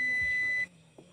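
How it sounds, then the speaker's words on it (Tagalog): A steady high electronic beep from a multimeter's continuity buzzer, testing a 24-inch Sharp LED TV with no power, holds for about half a second, then cuts off, leaving faint room noise. "sana naririnig nyo yung buzzer"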